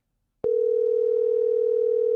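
A telephone line tone starts abruptly after a short silence and then holds as one steady, loud, unbroken hum, with no talking over it.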